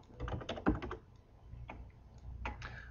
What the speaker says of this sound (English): And then we can type as many options as we want.